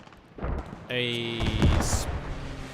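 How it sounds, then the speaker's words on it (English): Allied aircraft strafe run in the WWII game Post Scriptum, a roaring engine drone with heavy rumbling impacts and a brief sharp burst, loud and close, over a short stretch of background noise. "strafe run coming in there. That was actually an allied strafe run."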